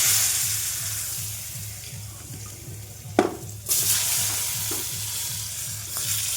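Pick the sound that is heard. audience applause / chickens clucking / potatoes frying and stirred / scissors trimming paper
potatoes frying and stirred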